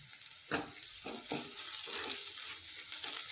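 Green chili thecha fries in a pan with a soft, steady sizzle broken by several stirring scrapes, fairly quiet and close, with no one speaking.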